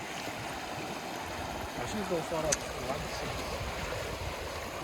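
Rushing water roars steadily with heavy rumbling, like a vehicle pushing through a stream, continuous and close.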